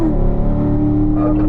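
A race car on a track accelerates with a loud, close engine drone whose pitch climbs steadily over a short stretch, with no talk.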